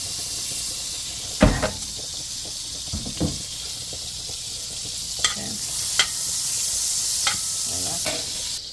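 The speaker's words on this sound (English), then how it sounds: "I'm on my big Dutch pot. Yes, so I'm gonna put some butter in it there. Okay, and I'm gonna add some oil." Butter and oil sizzling in a big Dutch pot, a low continuous hiss with occasional clinks and scrapes, close and moderate, with no one speaking.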